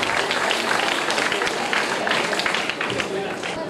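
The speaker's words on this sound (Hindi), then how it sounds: "इनके लिए जोरदार तालियां" Applause from an audience at a motivational seminar, steady and fairly dense for the whole stretch, with crowd noise and some voices mixed in.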